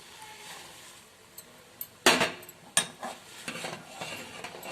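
Chickpea greens being mixed into cooked dal in a pot, with a few sharp spoon clatters against the metal and softer wet stirring and scraping in between.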